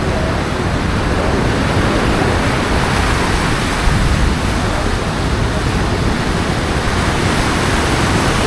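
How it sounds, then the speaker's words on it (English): Busowoko Falls in Jinja, Uganda, roars as a loud, steady broadband rush of falling water, constant and close with no breaks. "Welcome to BUSOWOKO Waterfalls"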